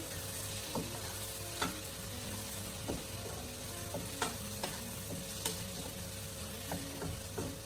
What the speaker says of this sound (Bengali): তারপর পুরো জিনিসটাকে একটু মিক্স করে